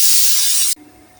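A pressure cooker lets out a loud, sharp hiss of steam while green peas cook, then it stops abruptly, leaving a low quiet background.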